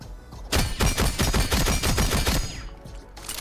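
Rapid shots from the TC-SG-12 shotgun in Rainbow Six Siege, about ten loud blasts fired in quick succession at close range, then a short pause and one last shot.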